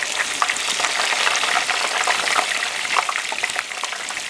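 Steady, dense crackling sizzle of a whole turkey frying in hot oil, loud and close, with continuous popping and no voices.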